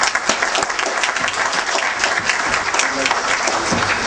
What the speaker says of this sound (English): I think they deserve a very sound applause from all of you.